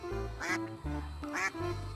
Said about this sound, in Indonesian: ternyata ini ada bebek warnanya kuning kombinasi biru